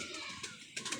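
Pigeon cooing from a pet pigeon pair kept by a hobbyist, a couple of soft, faint coos over a quiet background within about a second.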